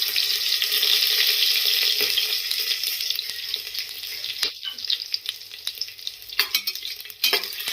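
Whole spices, cloves, cinnamon, cardamom, and curry leaves frying in oil in a pan. A loud, close, hissing sizzle that fades slightly, then comes intermittent stirring scrapes and clicks.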